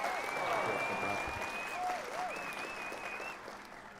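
Canned applause effect fired from a soundboard button during a podcast, a steady burst of crowd clapping with whistles and cheers, loud and continuous for about four seconds before slowly easing off.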